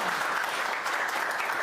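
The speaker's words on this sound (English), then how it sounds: "Let's give them a round of applause." An audience at a conference workshop claps for a panel of speakers, a brief dense burst of steady applause heard at moderate distance.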